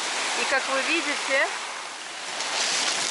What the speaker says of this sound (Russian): Здесь очень сильные волны